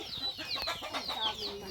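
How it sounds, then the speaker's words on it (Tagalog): A crowd of chickens clucks and chirps continuously at moderate distance, overlapping calls with no talk. "Daming manok."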